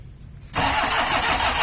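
A Mitsubishi L300 or Panther engine cranks and catches after a brief quiet moment, then runs loud and rough close by with a steady clattering knock.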